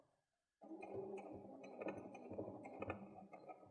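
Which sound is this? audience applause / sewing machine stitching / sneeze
sewing machine stitching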